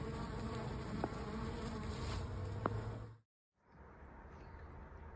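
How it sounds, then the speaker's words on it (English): Honeybees buzzing inside a newly delivered package, a steady close droning hum that cuts out briefly before resuming. "Okay, I picked up my bees."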